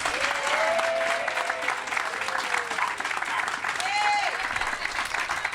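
Applause from a crowd greets Boston Mayor Wu at a Bunker Hill public housing groundbreaking, a moderate steady clapping, with thin tonal whistle-like sweeps and faint voices mixed in.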